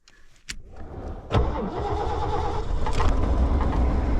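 A 2006 Dodge 2500 with a 5.7 Hemi cranks briefly after a few clicks, fires up and settles into a rough, loud, steady idle close by.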